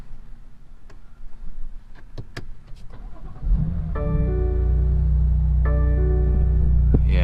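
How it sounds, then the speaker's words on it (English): A BMW M2 Competition cranks and fires up at about 3.5 seconds, flaring briefly before settling into a loud, steady idle with a strong low rumble. Faint ticking and rustling come before it. "let's start this bad boy up"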